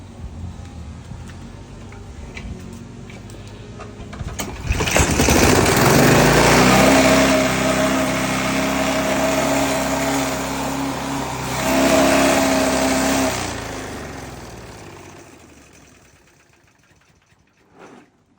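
An old, long-abandoned lawn mower engine with a worn throttle cable starts up at close range, running loudly and roughly for several seconds before sputtering and fading out as it dies, with no talk over it.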